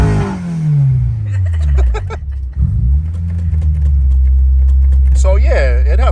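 An Acura RSX Type S revs on a two-step launch limiter, a loud, close engine rising and falling with rapid popping and crackling bursts, while people talk over it.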